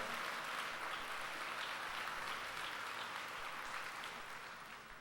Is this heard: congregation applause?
yes